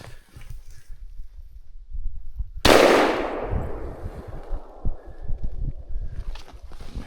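A single loud, close shotgun-style blast fired at a grouse while hunting in snowy woods, a sharp crack with a lingering echo, amid soft rustling and footsteps.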